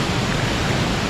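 Waterfall at Sweet Creek Falls, a dense, constant rushing roar of falling water, loud and close with no break, no voices over it.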